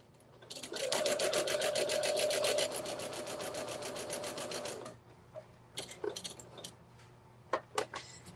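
Sewing machine stitching a patch onto a quilt, a fast rhythmic mechanical whir running for about four seconds, then stopping, followed by scattered clicks and handling knocks.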